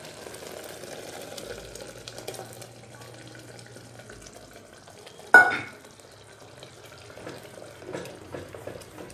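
Tomato paste frying in a pan for a pea kurma, giving a soft, steady sizzle with stirring scrapes and a single sharp clatter midway, fairly quiet and with no voices.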